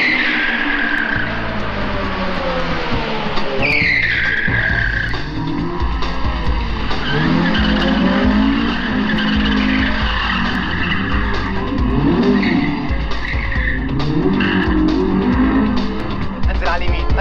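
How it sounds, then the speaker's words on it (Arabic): A car on a test drive roars loudly with its engine straining and tires squealing, the sound close and continuous while people talk over it. "هنجرب العربيه ونكمل كلامنا"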